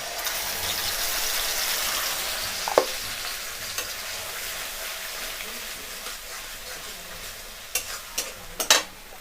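Spices tipped into hot oil with a lightly fried bay leaf for chana dal, a steady low sizzle running throughout, with a few sharp clinks and pops near the end.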